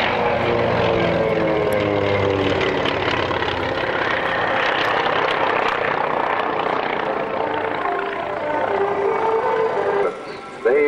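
Vintage aircraft roar low overhead at the North Weald airshow, a loud sustained propeller and engine drone that swells and fades, with a commentator talking over it.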